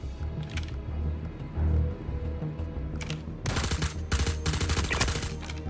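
Rapid gunfire bursts from shotguns in Star Citizen, loud broadband blasts clustered near the end over a steady low rumble and game ambience, with a few isolated reports earlier.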